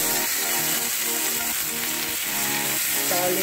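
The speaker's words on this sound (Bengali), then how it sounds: "এর সাথে নিম পাতাটা ভেজে নেব।" Neem leaves frying in hot oil with whole spices and bay leaf for a tempering, giving a loud, dense, continuous sizzle with soft crackles close by, without any talking.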